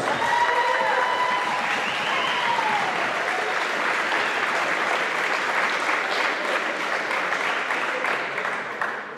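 A crowd at a boys' volleyball provincial championship ceremony in a gym gives sustained applause, dense clapping with faint voices and whistles early, fading slightly at the close.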